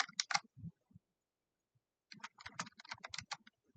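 Bursts of clicky keystrokes on a computer keyboard while an email address is typed in, a short flurry, a pause, then a longer rapid run of taps, close and fairly quiet.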